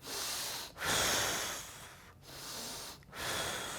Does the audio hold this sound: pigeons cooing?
no